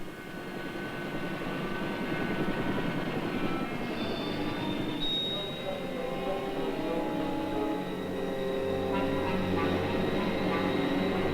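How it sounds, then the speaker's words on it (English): A Coast Guard rescue helicopter drones steadily with a continuous engine roar and rotor hum at a moderate distance, holding an even level throughout. "Helicopters, the flying lifeboats, with their ability to hover and take off and land vertically"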